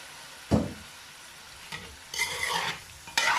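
Chicken, shrimp and vegetables being stirred in a pan, giving a scraping stir and soft sizzling in a few short bursts, close and moderately loud, with no voices.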